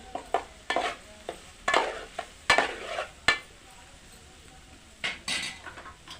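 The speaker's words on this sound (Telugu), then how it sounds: "ఒక చెంచా ఉప్పు వేసుకోవాలి మంచిగా కలుపుకోవాలి" Cauliflower fry with salt is stirred in a pan, with a spoon scraping and clinking against the metal in irregular close bursts over a faint frying hiss, separated by quiet pauses.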